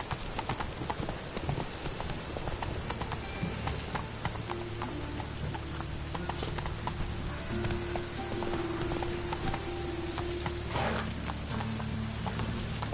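Roach, a horse in The Witcher 3, trots at a steady pace, with a continuous rhythmic clip-clop of hooves close by. Soft rain-like patter fills the background.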